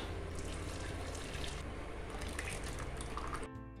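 Jaggery water is poured into a pan on the stove for making syrup, a soft continuous trickling and splashing of liquid that carries on steadily before cutting off near the end.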